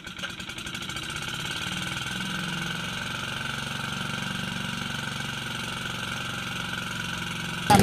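A classic Hayter Hayterette lawnmower with a converted carburettor runs after refuelling, its small engine idling in a steady, rapid, knocking putter, with a sharp loud bump at the very end.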